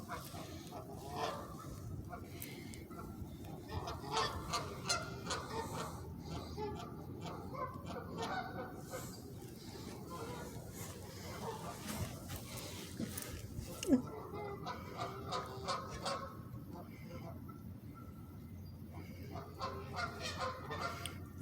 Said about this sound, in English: There's a goose right there, too.